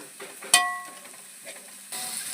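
Onions sautéing in a pan until brown for okra tamarind curry, a soft crackling sizzle with a sharp metallic clank of a spoon near the start and stirring scrapes, close and moderate, no voices.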